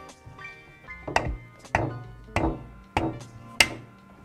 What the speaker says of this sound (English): You wanna use the hammer?